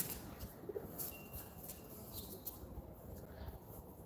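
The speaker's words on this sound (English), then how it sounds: "See, the pigeons are playing around." Pigeons coo faintly outside an apartment in Rome, soft intermittent calls sitting low in a steady wash of city background noise.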